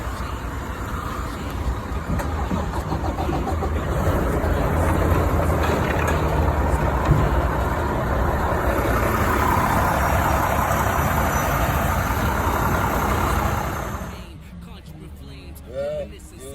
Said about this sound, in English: This is my dump truck right here.